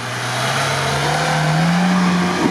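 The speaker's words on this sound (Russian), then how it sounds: "Спортивный выхлоп пошел." A Lada Niva off-road car with a sport exhaust revs steadily on a dirt course with dug pits, its low engine drone rising gradually in pitch and loudness over a constant close rumble.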